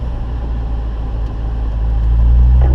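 A Corvette race car at a driving school rolls onto the track, its steady mid-pitched engine drone building slightly in loudness toward the end, with no talking.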